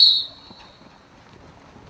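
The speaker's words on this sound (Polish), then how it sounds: "na gwizdek!" A short, sharp high-pitched whistle blast at the start of an athletics race, fading quickly into quiet background.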